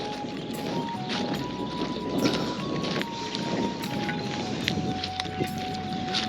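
Many hooves patter and thud continuously over grass as a herd of goats runs toward grazing, with wind noise and faint tones in the background.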